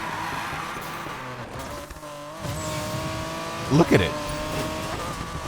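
A BMW M3 race build in Need for Speed Payback pulls hard out of a corner, its engine note climbing in steady tones with a brief tire squeal near the end, all beneath continuous talk.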